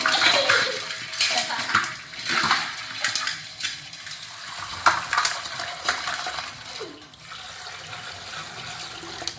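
Water poured over freshly caught crabs in a container splashes and gurgles close by in uneven surges, with small clinks and a faint voice in the background.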